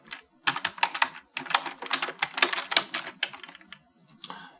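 Close, crisp computer keyboard typing as login details are entered, in irregular bursts of rapid clicking keystrokes with brief pauses, and no talking.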